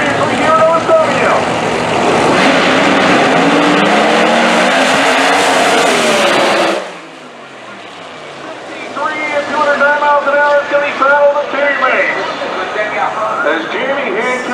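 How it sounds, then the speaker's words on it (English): A nitrous drag racing car roars loudly past at a dragway, a sustained engine blast that cuts off abruptly midway, followed by quieter crowd and track noise with some talk. "It actually looked like the nitrous car was driving by, and then you saw the big pop"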